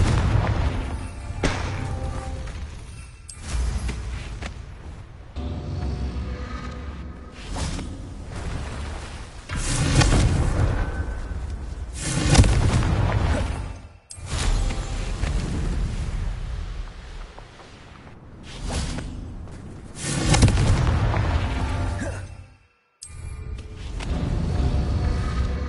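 Repeated Confringo explosion spells cast in Hogwarts Legacy, a series of heavy booming blasts with whooshes between them, loud and close, rising and falling across the stretch with brief near-silent gaps.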